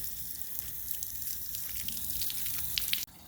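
Low-pressure water rinses a dirty K&N rechargeable air filter from the clean side, a soft continuous splash and trickle with scattered drips, fairly faint, ending in an abrupt stop.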